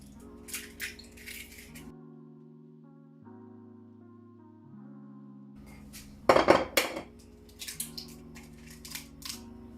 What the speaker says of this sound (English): I'm gonna break my 3 eggs.